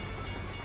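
A train rolls past in American Truck Simulator, a brief dense rumble and hiss from its passing cars that holds steady and loud throughout.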